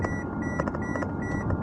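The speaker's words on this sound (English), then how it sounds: "Sorry for the beeping." Repeated electronic car seatbelt warning beeps chime at a steady rhythm inside a moving vehicle, heard over constant road and engine noise.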